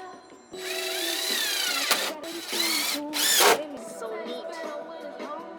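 Power drill driving finishing screws into a backyard deck during a DIY build, several loud whirring bursts with pauses between them and a short spoken remark over the top.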